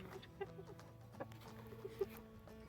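Chickens and a rooster in a farmyard coop, giving a few soft clucks and short calls over a steady low background, moderately close, with no talk.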